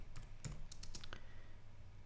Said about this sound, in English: all you need to do is start typing your text over the top of that